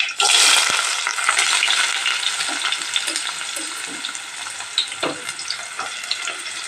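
Onion sizzles loudly in hot oil with mustard seeds and is stirred steadily in a pan for vadala pulusu, a continuous close frying hiss broken by scraping stirs, with no voices.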